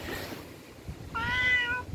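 A cat outside a Hallabong citrus shop near Cheonjiyeon on Jeju Island gives a single clear, close meow near the end, following a stretch of quiet background noise.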